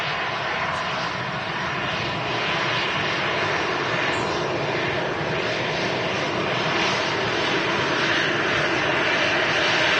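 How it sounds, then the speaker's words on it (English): An Airbus A380-800 airliner on its landing approach at Manchester Airport produces a steady, loud, continuous engine roar that holds for the whole stretch, with no voices. "Coming in, A380-800."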